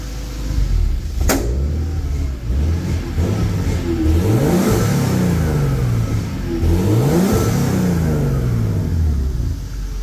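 A turbocharged BMW engine with an external wastegate vented to atmosphere, revved by hand throttle in repeated rising blips with a raspy tone, loud and close, with a sharp click near the start.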